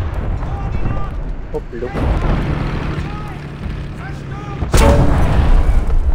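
Artillery fire in War Thunder Mobile from a Merkava Mk.1 tank, heavy booming blasts with a loud sharp shot near the end, over rumbling battle noise and brief talk.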